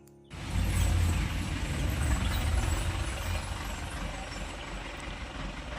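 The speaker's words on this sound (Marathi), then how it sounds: "पाण्याची गाडी आली." A water tanker truck pulls up nearby, its heavy diesel engine rumbling loud and low alongside a hissing air brake, then idling steadily with no voices over it.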